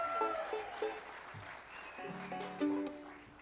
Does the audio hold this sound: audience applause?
yes